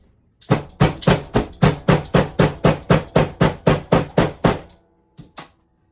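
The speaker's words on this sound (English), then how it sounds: "I guess I can hammer it." Steady, evenly spaced hammer blows flatten rivets on a sewn bucket bag, about fifteen loud, sharp strikes in a quick regular rhythm, then a pause and two softer taps at the end.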